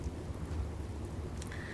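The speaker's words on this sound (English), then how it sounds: "and it is raining now." Rain falls in the video game Fallout 4, a steady, dense hiss with low rumbling underneath, continuous and even throughout with no voices.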